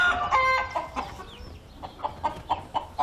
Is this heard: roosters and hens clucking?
yes